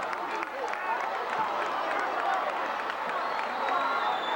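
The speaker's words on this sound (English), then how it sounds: "Hartington wants a lot of noise, and they're getting some out of their crowd." Loud, continuous crowd noise fills a gym during a 1985 high school district volleyball championship between Scotus Central Catholic and Hartington, with cheering and clapping throughout and a commentator talking over it.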